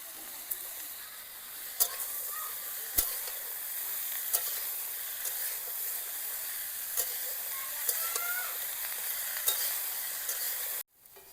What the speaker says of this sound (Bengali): ব্রকলিটা কিছুটা ভাজা হয়ে গেছে, এগুলো দিয়ে দিলে একসঙ্গে আরও কিছুটা ভাজা হয়ে যাবে।